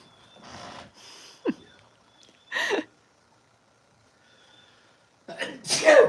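Several sharp sneezes at a ranch, a couple of brief nasal bursts early then a loud explosive sneeze near the end, close by with quiet gaps between.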